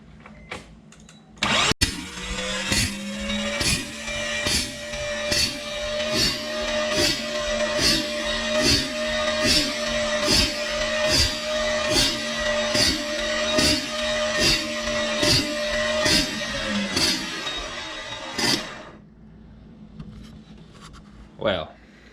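A Mazda RX-7 rotary engine cranks over on the starter during a rotor compression test, giving a steady, rapid pulsing whir for about sixteen seconds after a brief click, then stopping.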